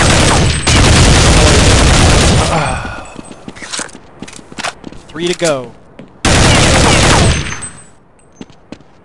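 Loud bursts of rapid gunfire from Counter-Strike 1.6 on a back alley hostage rescue map, a heavy volley at the start and another around the middle, with a brief spoken radio line and scattered game effects between them.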